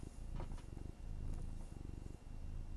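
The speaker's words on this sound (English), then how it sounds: "I don't know if you can hear him, but he's purring now." A male cat purring close by in a quiet room, a steady low rhythmic rumble with alternating inhale and exhale phases, soft and continuous with no talking.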